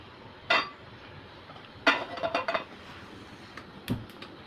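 A frying pan set down on a stove beside a kadhai in a home kitchen, with a few sharp metallic clanks and clinks of cookware, close and distinct against a quiet background.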